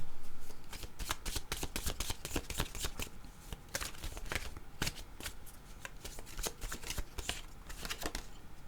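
Tarot cards being shuffled by hand, a quick continuous run of crisp riffling slaps and flicks, close and fairly quiet, with no talking.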